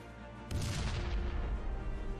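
A sudden explosion goes off in the World War II shooter game Enemy Front after a brief quiet lull. The sharp boom gives way to a sustained rumbling roar that carries on to the end.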